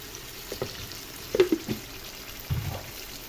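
Tomatoes tumble into a hot frying pan and sizzle softly, with a few quiet thumps and stirring scrapes against a low steady hiss, close and faint.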